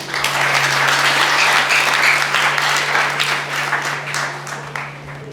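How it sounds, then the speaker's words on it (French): Graduation ceremony crowd at Alain Ducasse's school applauding as a graduate steps forward, a dense sustained round of clapping that gradually thins and softens toward the end, with a steady low hum beneath. "Je vous demande de l'accueillir, s'il vous plaît, avec un torrent d'applaudissements."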